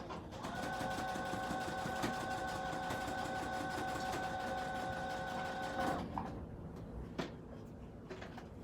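A sewing machine stitches a vintage-style fabric face mask, running in a steady continuous whir for about six seconds, then stopping, followed by a few faint clicks and handling noises.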